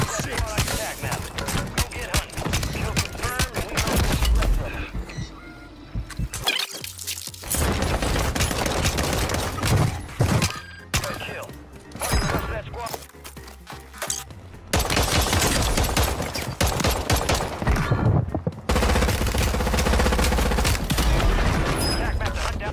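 Dense gunfire from Warzone 3 play, with rapid automatic bursts, booming shots and sniper rifle cracks rolling on almost without pause, broken only by a few short gaps.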